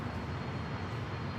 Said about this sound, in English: A321. Norse number 2 for takeoff on the north side on 24 left.